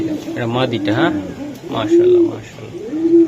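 Red checker racing pigeon cooing in soft low repeated calls, close by, mixed with someone talking over it.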